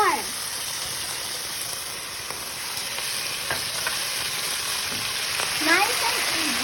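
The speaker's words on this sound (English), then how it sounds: "So we're now gonna put the century tuna on the pan" Century tuna sizzles steadily in a frying pan while pasta carbonara is being cooked, a continuous hiss with a few scraping stirs of a utensil against the pan, and light talking in the background.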